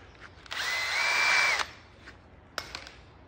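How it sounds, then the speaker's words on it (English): An electric drill runs with a 1/8 inch bit, boring a small hole for a custom sail cover, a single close whining burst of about a second, followed by a few light knocks. "And then I take this little 1/8 inch hole drill and drill those."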